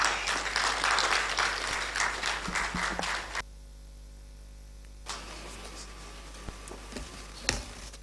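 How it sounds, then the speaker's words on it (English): An audience at a law alumni association launch and public lecture at GIMPA applauds in a dense burst of clapping for about three seconds, then cuts off abruptly to near silence with only faint room sounds. "Please, a round of applause."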